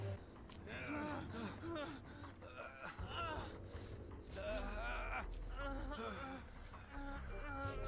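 An injured survivor in Dead by Daylight pants with repeated gasping, moaning breaths, loud and close, interleaved with other game noises.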